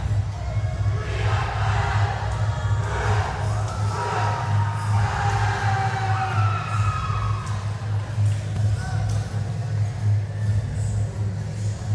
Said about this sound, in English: Student section getting fired up.